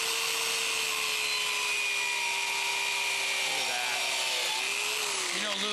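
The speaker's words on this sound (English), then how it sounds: "Watch how nice we can do a cut on this piece of hardwood right here." A counter-rotating dual blade saw cuts through a piece of hardwood with a loud, sustained high whine whose pitch shifts slightly as the blades bite, and it falls away at the end.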